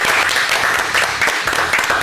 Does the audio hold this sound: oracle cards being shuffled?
no